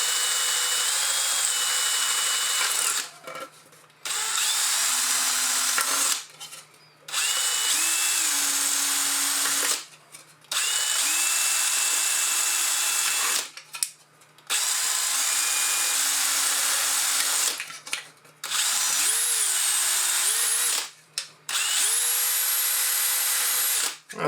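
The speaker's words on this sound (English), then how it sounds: "Yeah, so I used a hole saw" Hole saw cutting a series of holes into a plastic hydroponics container, each a loud whining drill burst of a few seconds with pitch dipping under load, separated by short silent pauses, repeated about seven times.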